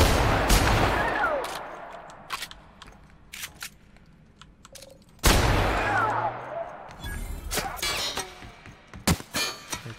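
Gunfire in The Outer Worlds on Supernova difficulty: sharp bursts of shots and impacts come in clusters, with a loud volley near the start, another around the middle and scattered rapid shots toward the end, over quieter game ambience.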